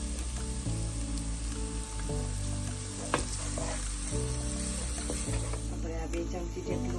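Ginger-garlic paste sizzles in hot oil while cooking an Indian masala pasta base, a steady close frying hiss running throughout with a sustained tonal backdrop underneath.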